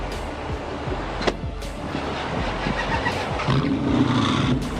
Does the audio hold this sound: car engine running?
yes